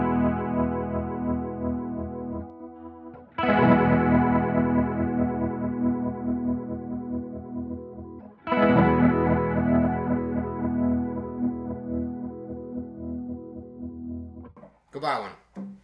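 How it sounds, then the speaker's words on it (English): An electric guitar is played through a cheap chorus effect pedal. Sustained distorted chords shimmer and ring out, with new strums around 3 and 8 seconds and a brief burst near the end. "So best, cheapest chorus pedal."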